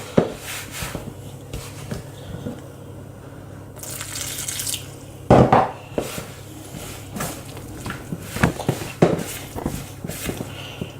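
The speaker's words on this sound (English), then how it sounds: "So I'm slowly adding the water, because I can always add more but I can't take away." Water trickles and splashes gently as it is poured slowly into homemade pizza dough in a bowl, soft continuous pouring with a few louder splashes and drips.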